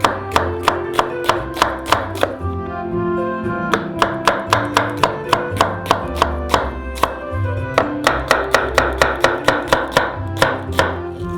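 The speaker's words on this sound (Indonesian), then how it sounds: "Pertama-tama kita potong menjadi cincin." A knife chopping jalapeno peppers into rings on a cutting board, a long run of quick, evenly spaced crisp knocks, close and clear, with a short pause partway through.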